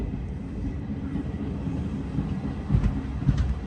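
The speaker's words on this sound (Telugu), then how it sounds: "మన ట్రైన్ అయితే ఈ స్టేషన్ నుంచి బయలుదేరిపోయింది." Secunderabad–Siddipet DEMU train pulling out of a quiet station, a low steady rumble from on board with a couple of heavier thumps toward the end.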